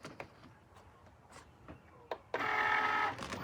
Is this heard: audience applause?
no